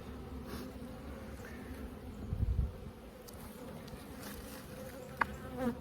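Honey bees buzz steadily at a Langstroth hive during an early-season inspection, a continuous close insect drone with a few brief louder passes and faint handling sounds.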